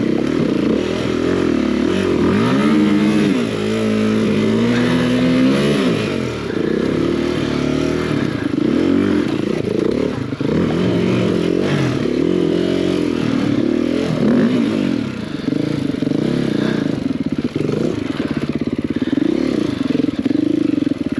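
An enduro motorcycle engine revs hard and repeatedly while popping a wheelie through a wooded lot, loud rising and falling throttle blips over clattering and scraping, with no talking.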